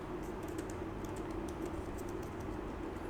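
Quick, steady clicking of computer keyboard keys as Python code is typed, close and moderately quiet, a continuous patter of keystrokes with no talking.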